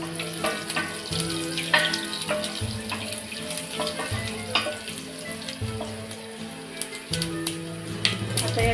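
Garlic cloves with a pinch of asafoetida sautéing in a pan for a Maharashtrian bharang leaf dish, a steady close sizzle broken by frequent clinks and scrapes of stirring, with a faint voice underneath.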